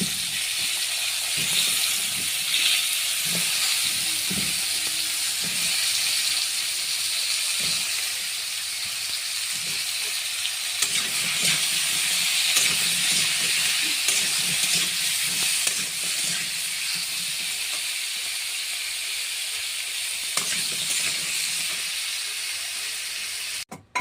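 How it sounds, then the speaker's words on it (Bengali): Potatoes and soybean chunks frying in oil in a wok, a steady broadband sizzle and hiss that holds evenly throughout, with faint scattered clicks and stirring sounds beneath. "এরপর আলুটাকেও লাল লাল করে ভালো করে ভেজে তুলবো, তাই আলুটাও কড়াই ছেড়ে দিলাম।"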